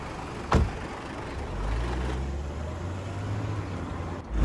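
A taxi car pulls away, its low engine rumble building steadily after a sharp thud near the start, with a faint high whine over the drone.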